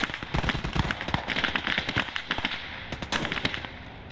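Rapid artillery and gunfire in a World War II battle in Call to Arms: Gates of Hell Ostfront with Shermans on the field: dense, loud crackling bursts and booms packed closely together, continuing nearly without pause.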